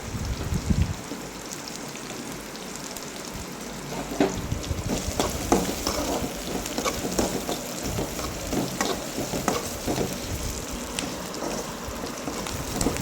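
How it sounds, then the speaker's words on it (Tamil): Ingredients for a spicy village-style kara kuzhambu sauté in hot oil, giving a steady close sizzle and crackle with scattered stirring scrapes and no talk. "அதுக்காக தான் எண்ணெயிலே நல்லா வதக்கி விட்டுருங்க"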